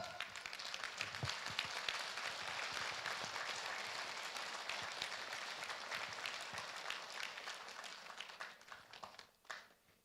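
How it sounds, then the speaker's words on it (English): A conference audience at a peace leadership plenary in the Philippines breaks into a sustained round of applause, dense clapping that holds steady for about ten seconds before thinning out at the end. "Do you give a round of applause for that?"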